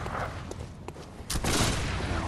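Gunshot in the video game Bloodborne: a short booming blast over dense game noise, followed by a sustained loud rumble.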